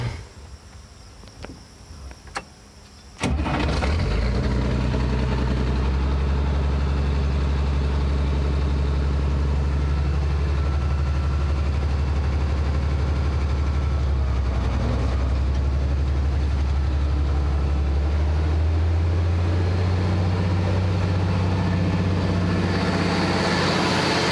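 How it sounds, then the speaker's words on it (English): A heavy tractor engine, running a New Holland 790 forage harvester, starts up and runs steadily at about three-quarter throttle, a loud, constant drone with a deep rumble, holding the same pitch throughout. "now you start the tractor up and run at about 3/4 throttle"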